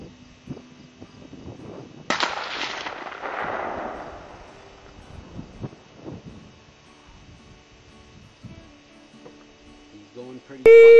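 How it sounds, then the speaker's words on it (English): Rifle fired during a bear hunt in the Ontario woods, a sharp crack followed by a trailing echo in a quiet outdoor setting, with soft rustling and faint voices afterward. "Shoot again, Greg."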